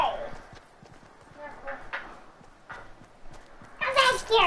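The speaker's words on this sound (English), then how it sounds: "Look at my horse." Hooves clip-clop on a horse in the Fortnite video game, a steady walking rhythm under scattered game noise. A louder burst of effects comes near the end.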